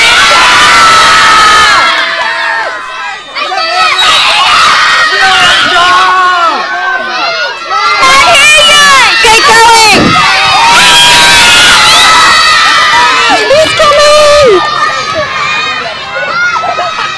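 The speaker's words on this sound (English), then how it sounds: "let's make a big cheer for Santa" Children at a Christmas concert cheer and shout loudly for Santa, a dense, sustained crowd roar of high young voices that swells and dips throughout.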